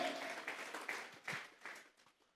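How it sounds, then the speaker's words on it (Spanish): A church congregation claps during a sermon, a brief burst of applause with individual hand claps standing out, quieter and thinning quickly over a couple of seconds. "Dele fuertes a palmas al que lo venció."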